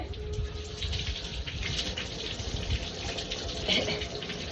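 Clothes being washed and dipped in a tub of water give a steady, close splashing and sloshing wash that runs without a break and sits fairly loud throughout.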